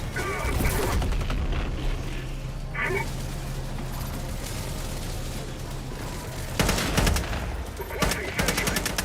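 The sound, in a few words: orbital strike and gunfire in video game Helldivers 2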